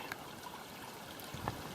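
A stream flows near a large flat rock at a site of Miwok petroglyphs and bedrock mortars, giving a faint, steady trickling wash with a slightly stronger splash near the end.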